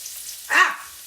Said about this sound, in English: Gently pour the onions in so you don't splash yourself with the oil.